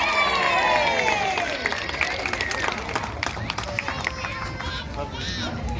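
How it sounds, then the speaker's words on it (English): A safari park audience at a sea lion show cheers and claps, a broad crowd roar that swells at the start and then fades into scattered applause and murmuring, with a voice over a loudspeaker. "So we're going to give him a big cheer as he heads in"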